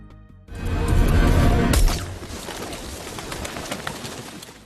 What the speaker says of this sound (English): They pretend to be feeding birds.